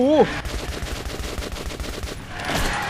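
Rapid bursts of gunfire in the horror shooter Metro 2033 Redux, a steady stream of shots close and loud with a brief voice-like cry at the start.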